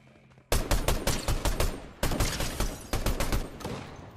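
Rapid bursts of gunfire in the video game Fortnite, loud dense volleys of shots in three clusters after a short quiet start, with no voices.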